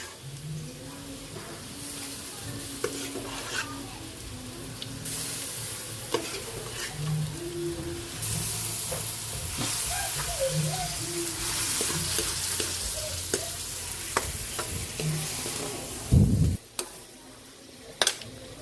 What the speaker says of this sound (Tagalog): Lagyan na natin yung munggo.